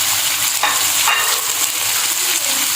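Tomatoes hit a pan of frying okra (bhindi) with a steady, loud sizzle that runs for about three seconds, and a spoon stirs through it once or twice.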